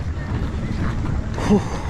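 A tour boat out on the water during an island-hopping trip in Langkawi, heard as a steady rush of wind and water noise throughout, swelling slightly near the end.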